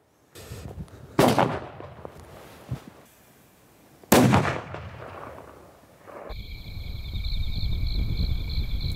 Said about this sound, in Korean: 폭발가스 압력을 이용해 폭음을 발생시켜 야생동물의 귀에 거슬리는 소리를 내는 것이다.